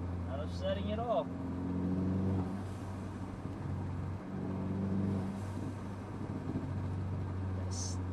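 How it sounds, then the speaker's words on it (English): Mercedes CLA250 with a new blow-off valve, its turbo spooling up in rising whistles under a rumbling engine idle and revs, with a sharp hiss near the end and voices talking over it. "Oh, the turbo spool."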